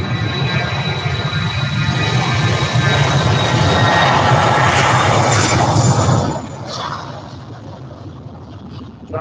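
Loud roar of jet aircraft engines at Manchester Airport, with an A380 on the runway, a broad sustained rumble and whine that holds strong for about six seconds, then drops away to a fainter distant drone.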